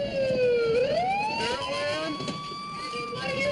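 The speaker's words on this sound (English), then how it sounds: "What are you doing and why is your siren on?" A police car siren wails close by, its tone sweeping up and down over steady street noise, with someone talking over it.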